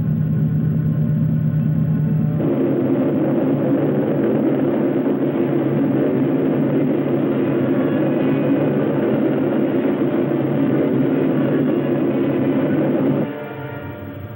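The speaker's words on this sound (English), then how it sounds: "Start the engines and get ready for a vertical landing." Spaceship engines in a science-fiction film rumble in a dense, continuous roar that swells abruptly after a couple of seconds, holds steady and then drops slightly near the end, with no talking.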